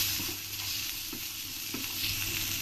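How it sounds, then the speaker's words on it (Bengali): Ginger, garlic, onion and green chilli fry in oil in a pan with a steady close sizzle, punctuated by a few soft stirring scrapes. "এবার দিয়ে দেবো আদা, রসুন, পেঁয়াজ, কাঁচা লঙ্কা সব একসঙ্গে একটু ফ্রাই করে নেবো।"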